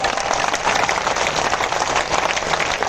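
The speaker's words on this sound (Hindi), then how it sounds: "ये शूरवीरों के अभिनंदन की तालियां है" Sustained crowd applause at a large Hindu gathering, dense and steady clapping from many hands filling the space at even loudness throughout.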